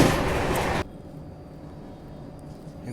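Karnataka Express passenger train running at 130 km/h, a loud rushing roar for almost a second, then a sudden drop to a quieter, steady interior rumble with faint rail noise.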